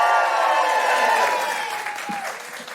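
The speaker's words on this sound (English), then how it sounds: "just give us a cheer if you enjoyed the show." A comedy show audience cheers and applauds loudly at first, then the crowd noise slowly fades over a few seconds.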